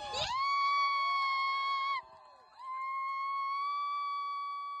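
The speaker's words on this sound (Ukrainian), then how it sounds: "Підняття прапора вітали радісними вигуками" A group of people on the summit of Hoverla cheers the raising of a record-sized flag with long, sustained, tonal shouts. One held cry breaks off after about two seconds, and after a short pause a second sustained cheer follows.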